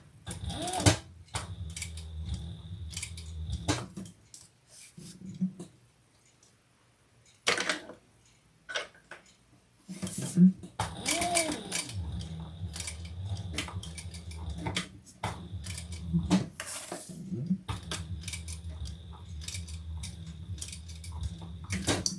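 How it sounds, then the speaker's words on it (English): A sewing machine stitches over an existing seam on a strap, running in short bursts of rapid mechanical ticking with brief pauses, close and moderately loud, while the machine has a tension problem. "I'm just going over some of my stitching."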